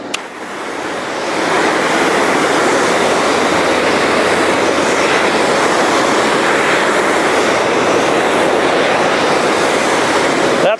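A cold water jetter, a high-pressure water blaster used for cleanup, runs outdoors with a loud, steady hissing spray that swells up within the first two seconds and then holds constant.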